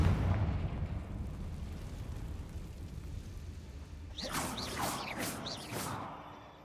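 A burst of Confringo explosion-spell effects in the video game Hogwarts Legacy: a few sharp whooshing, crackling blasts in quick succession near the end, following a stretch of low rumbling game ambience.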